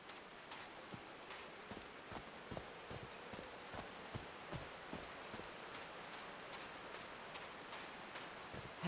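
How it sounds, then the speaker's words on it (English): Faint, steady rain hisses in the Call of the Sea game world, with scattered soft taps and drips landing in an uneven rhythm and no voices. "These drops of rain are so refreshing."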